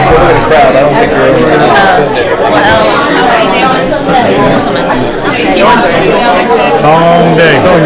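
Dense crowd chatter fills a room before a city council meeting, with many overlapping voices murmuring and talking loudly and continuously, nearby and all around.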